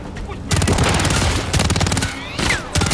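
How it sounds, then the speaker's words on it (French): Enemy gunfire in the Call of Duty: Modern Warfare 3 campaign: dense, loud automatic bursts crackle almost continuously, pausing briefly between volleys. "Tire ennemi."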